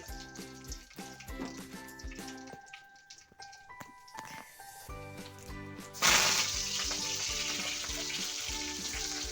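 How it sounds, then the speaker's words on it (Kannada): Oil sizzles steadily as spices are tempered, with a louder burst of hissing partway through as something is added to the hot pan; no talking. "ಕಾಳು ಒಗ್ಗರಣೆ ಮಾಡ್ಕೊಬಿಡ್ತೀನಿ"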